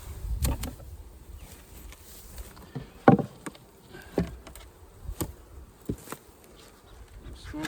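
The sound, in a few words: honeybees buzzing from an opened hive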